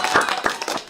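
Audience applause at an evening gathering, a dense wash of many hands clapping steadily for a short burst with no speech over it.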